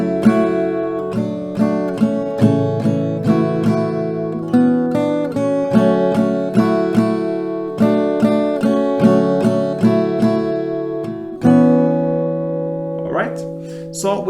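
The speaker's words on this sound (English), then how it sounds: "I'm just gonna show you how to do it with downstroke" Steel-string acoustic guitar strummed with steady downstrokes, bright full chords ringing in a regular rhythm with brief pauses between changes, close and alone with no talking, tuned for a song lesson.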